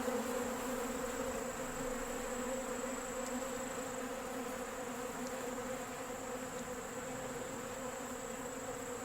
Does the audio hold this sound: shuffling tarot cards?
no